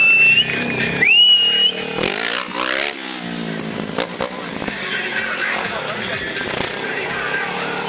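A motorcycle stunt rider, a world vice-champion, balances the bike with body weight and rear braking during a stunt qualifying session in Romania, the engine revving and whining loudly with shifting pitch throughout, under a commentator's voice.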